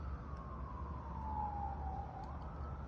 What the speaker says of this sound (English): these are the exact sirens that started, and see, they are still going on